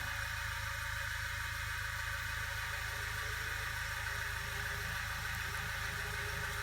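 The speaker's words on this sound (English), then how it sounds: "It's bringing the idle down now." A Vauxhall Vivaro van engine idling after all its cylinders were restored, its idle settling lower: a steady, even low mechanical hum with a faint vibrating rattle, constant throughout with no voices.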